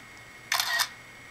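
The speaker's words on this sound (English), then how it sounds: "you will also hear a shutter sound indicating that the screenshot has been taken" An iPhone plays its camera shutter click while taking a screenshot, one short crisp mechanical-sounding snap, close and clear, standing alone against a quiet background.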